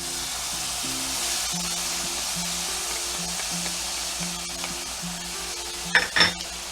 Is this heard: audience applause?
no